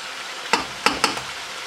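Chicken and mushrooms with flour frying on a high flame, with a steady sizzle underneath and three or four sharp scraping strokes of a spoon stirring the pan.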